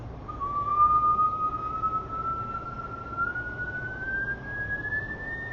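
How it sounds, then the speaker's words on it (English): A slow breath drawn in through whistle-shaped lips makes a thin, steady whistling tone that rises gradually in pitch over several seconds, close and soft, with no talk. "So it's inhaling through the whistled mouth like this."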